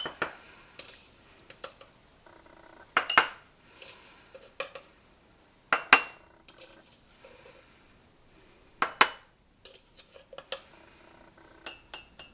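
A spoon scooping crushed Oreo powder into glass verrines, with light clinks and taps of metal on glass, scattered soft scrapes and a few sharper chimes, close and quiet, no talk.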